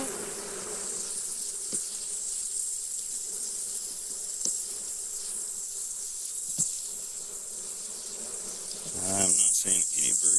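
Honey bees drone steadily from an open hive that is short on numbers, a close, continuous buzz with a few brief louder passes, and some clattering handling noise near the end.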